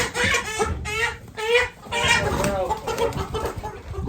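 A flock of chickens clucks loudly and continuously, close by, as the birds leave a trailer on a farm for their first time out; overlapping squawks and clucks come in quick bursts with brief pauses.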